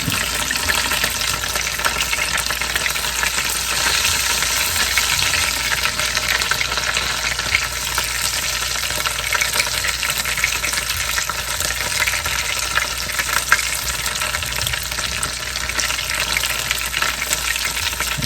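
Tortilla pieces fry and brown in hot oil in a pan, filling the air with a steady, dense, close sizzle that carries on evenly throughout with no voices.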